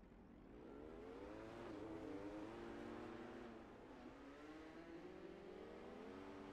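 Dirt midget race cars lap Volusia Speedway during practice hot laps, engines droning and revving steadily at a distance, the roar swelling and easing as the pack circles the track.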